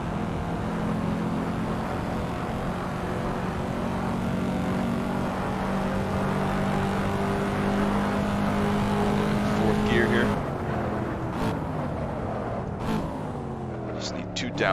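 A Corvette C7 in the Assetto Corsa racing game drones at steady revs for about ten seconds, then drops through a quick series of downshifts as it brakes hard for a tight chicane, with a commentator talking over the engine.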